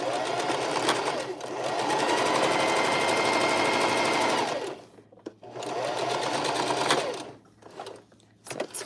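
A sewing machine stitches a decorative reinforcing seam on a bucket hat, running in two long steady bursts with a pause and brief start-stop between, close and loud.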